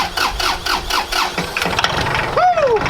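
A car engine cold-starts with several rhythmic cranking pulses before catching and revving, ending in a rising and falling belt squeal, loud and close.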